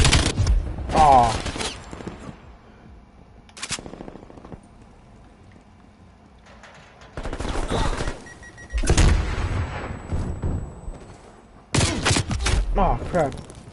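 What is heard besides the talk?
gunfire in a video game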